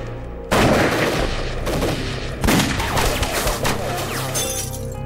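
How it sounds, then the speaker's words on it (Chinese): Arisaka Type 38 rifles fire on a hillside battlefield in a war film. Several sharp, loud cracks ring out in quick, irregular succession, one after another with a ragged echoing tail. "小队长，三八大盖的声音。"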